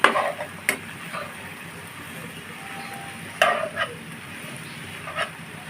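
Onion and garlic frying in a pan, a soft steady sizzle with a few sharp clicks and scrapes of a utensil stirring against the pan, heard close with no talking.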